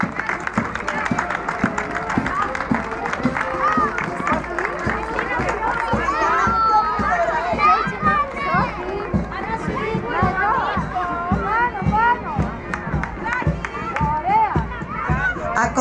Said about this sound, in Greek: Ένα δυνατό χειροκρότημα στα παιδιά μας.